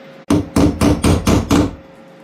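A hammer strikes a door frame being fitted into place, five sharp, evenly spaced blows close by, with a faint steady hum underneath.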